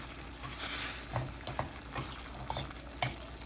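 Jamaican tin mackerel frying in seasoned gravy is stirred and turned over in a pan, with steady close sizzling and several soft scraping strokes at an uneven pace.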